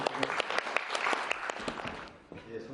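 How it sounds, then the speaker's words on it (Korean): An audience at an IT conference session claps continuously for a presenter, a dense, moderately loud patter that thins out toward the end, with a voice heard alongside it. "여러분들께서 많은 박수로 부탁드리겠습니다"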